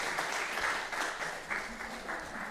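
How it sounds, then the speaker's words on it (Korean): A church congregation claps together in greeting during a Sunday worship service, a dense, even wash of applause from a roomful of people, moderately loud and sustained without a break. "다시 한번 더 인사 박수해 주세요."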